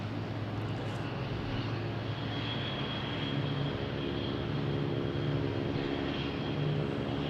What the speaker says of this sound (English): Here's JetBlue taking off, heading to Detroit.